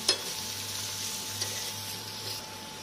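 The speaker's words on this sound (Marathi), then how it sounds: "आपली कोलंबी आता एका साईडने फ्राय झालेली आहे, तर आता आपण त्याला परतून घेऊया" Prawns fry in oil in a pan, a soft continuous sizzle close by with a couple of faint utensil clicks at the start and midway, under a low steady hum; no speech.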